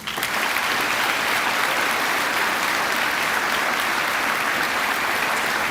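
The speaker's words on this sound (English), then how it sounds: "So let's give the choir a hand." Loud, sustained applause from a school audience for a choir at a junior high Veterans Day celebration, a dense wash of many hands clapping steadily for several seconds with no talking over it.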